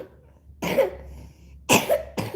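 A child coughs three times close up, each short and harsh, separated by pauses.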